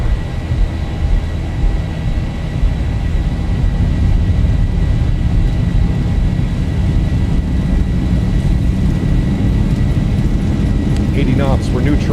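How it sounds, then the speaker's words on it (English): Boeing 737-800 engines spool at takeoff power in the X-Plane 12 flight simulator, a steady broad roar with a low rumble, close and continuous throughout, with voices partly heard over it. "Toga. Takeoff power set."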